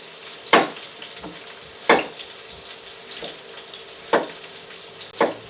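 Vegetables sizzle steadily in a hot frying pan before garlic is added, with a soft continuous hiss and sharp utensil stirs or scrapes every second or two.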